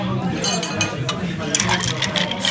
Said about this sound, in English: Stir like 10 seconds.